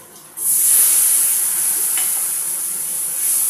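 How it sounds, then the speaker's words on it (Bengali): Ground cumin, coriander, turmeric and red chilli powders sizzle in hot oil with a splash of water while a Bengali fish curry with potato, pointed gourd and eggplant is sautéed. A loud, steady frying hiss starts abruptly and continues close up, with no talking. "এইবার আমি এটা দিয়ে দিলাম আর একটু জল দিয়ে কষাবো"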